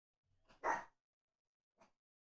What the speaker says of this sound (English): What is the bark boy barking at this time?